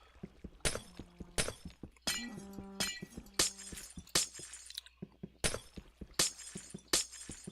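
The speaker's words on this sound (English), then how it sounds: "So I gotta break all of this glass." Glass bottles and panes are smashed one after another outdoors on a windy day, a steady series of sharp breaking crashes with tinkling shards between hits.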